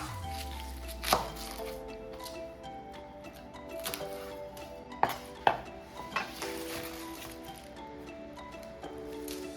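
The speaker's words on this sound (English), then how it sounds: "And then rough chop 4 or 5 cuts here." Knife rough chopping cabbage on a cutting board, a handful of sharp separate thuds spread unevenly across quiet kitchen room tone, close and fairly crisp, with no voices.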